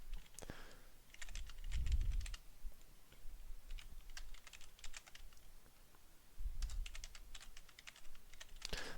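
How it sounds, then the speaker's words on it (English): Typing on the keyboard of a cheap older PC, with bursts of quick, faint key clicks separated by pauses, alongside a couple of low thumps. "But we can type in something"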